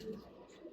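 A female pigeon gives a soft, low coo close by, brief and faint, with a second short coo at the end.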